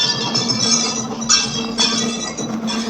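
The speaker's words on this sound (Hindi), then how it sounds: "आप सुन सकते हैं मंदिर की घंटी की आवाज़।" Bright metallic ringing from a temple bell at Chandrabadni Temple in Tehri Garhwal fills the background. Repeated chiming strikes overlap in a busy wash.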